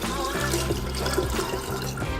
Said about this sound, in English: throw it in a pitcher, and add 3 cups of water